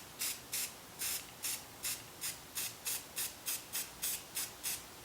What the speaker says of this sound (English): just spray paint myself a template like this.